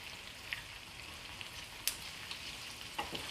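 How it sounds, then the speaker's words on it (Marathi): Onion frying in about three spoonfuls of hot oil in a pan for a dhaba-style chicken curry, a soft continuous sizzle with occasional faint crackles and pops, fairly quiet and heard alone. "आता आपल्याला कांदा तळून घ्यायचा आहे कांदा आपल्याला तेलावर चांगला लाल परतून घ्यायचा आहे"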